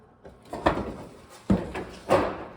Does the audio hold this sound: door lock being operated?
yes